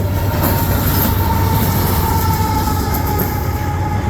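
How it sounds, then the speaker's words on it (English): CN freight train led by CSX CM44AC locomotive 7300 rumbles past at Ladysmith, Wisconsin, a loud continuous roar of rolling wagons with wheel noise and faint squeals, close to the track. "And that was CM44AC class leader 7300."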